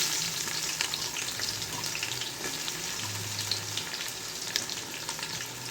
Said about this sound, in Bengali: পাঁচ ছটা পেঁয়াজ আমি কুচি করে রেখেছি সেটা দিয়ে দিচ্ছি